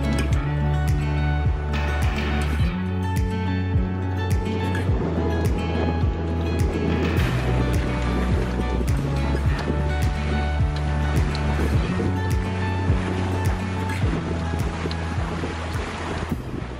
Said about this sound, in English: the wind went to like 20 knots. But there's a gust of 25 as well, and the waves just picked up like crazy